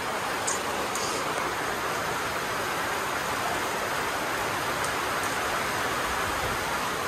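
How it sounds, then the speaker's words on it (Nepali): Heavy rain falls in a dense, constant roar, with a few faint patters standing out from the steady wash, and no voices. "आज दसैँको तेस्रो दिन पनि यस्तो पानी परिरहेको छ"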